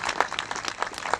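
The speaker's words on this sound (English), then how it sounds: "I'd like to have a round of applause for Kevin Martin, who led us over with the bagpipes" Applause from an audience at a 2019 veterans' ceremony honoring a bagpiper, a brief burst of dense clapping filling the moment, fairly close and steady with no talk over it.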